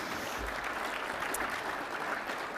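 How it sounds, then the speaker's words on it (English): Audience at a business partnership annual banquet keynote breaks into applause, a quiet, steady wash of clapping from the room that holds evenly throughout without voices on top. "you can clap for that"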